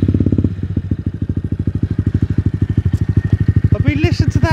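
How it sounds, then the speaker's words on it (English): A Honda Monkey 125 motorcycle idles just after start-up with a steady, rapid, loud exhaust thump close by. A voice comes in near the end. "listen to that exhaust"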